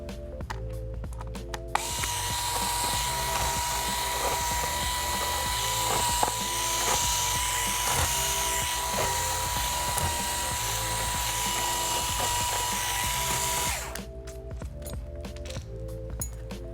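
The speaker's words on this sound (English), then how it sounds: "flip the unit over, take out the bottom cover screws" A powered screwdriver whirs steadily for about twelve seconds while backing out the bottom cover screws of an Acer C722 Chromebook, with faint metallic clinks, close up and with no talk.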